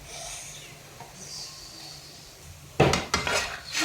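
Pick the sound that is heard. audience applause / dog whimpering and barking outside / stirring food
stirring food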